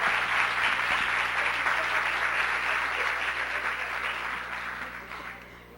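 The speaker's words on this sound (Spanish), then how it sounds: "La recibimos entonces con un aplauso." An audience at a mindfulness talk on Alzheimer's patients and older adults applauds steadily, a dense, even wash of clapping that slowly fades toward the end.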